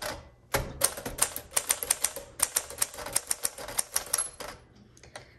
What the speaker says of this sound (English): The bell just sounded